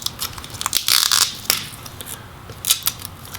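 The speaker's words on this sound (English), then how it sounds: "And it does look like it's connected with this tape, so we're going to go ahead and peel this back first." Adhesive tape is peeled back from the heatsink inside a Razer Blade Pro laptop, a close crackly ripping in several short bursts with one longer tearing stretch.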